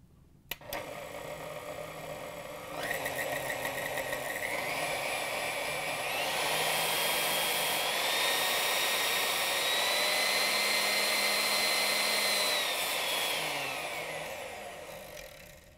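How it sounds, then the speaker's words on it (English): A KitchenAid stand mixer motor hums up through its speed settings, its whining tone stepping higher in distinct jumps over about fifteen seconds before winding back down, steady and close with no talk. "you should hear a distinct noise between all the speeds as you go up in speed"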